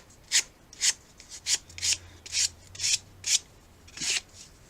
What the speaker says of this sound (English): you can take a piece of sandpaper in your hand and just kind of an angle, and you'll see that those pieces just fall off